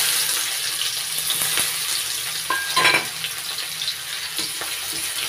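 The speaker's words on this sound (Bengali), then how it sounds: "এবার দিয়ে দিচ্ছি কেটে নেওয়া পেঁয়াজ" Chopped onions hit hot oil already seasoned with bay leaf and cumin for a winter-vegetable puti fish chachchari, giving a steady close sizzle with a brief louder crackle midway as they are stirred.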